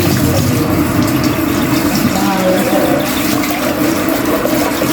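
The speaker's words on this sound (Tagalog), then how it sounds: "Ganado na tayo maghugas dito sa ating kusina" Steady, fairly loud rush of water running at an outdoor dirty-kitchen sink while dishes are washed, continuous throughout with faint clatter mixed in.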